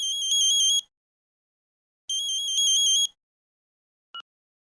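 An electronic phone ringtone trills in two short bursts separated by a pause, followed by a single brief beep; loud and clear with no voices.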